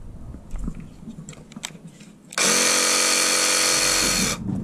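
A Dnipro-M cordless battery saw, a compact home and camping model, starts up after a few handling clicks and runs at a loud, steady high-pitched whine for about two seconds before stopping.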